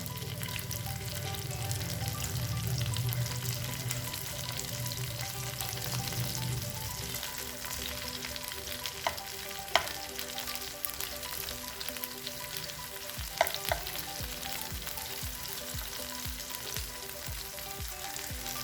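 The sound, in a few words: prawns frying in pan, being flipped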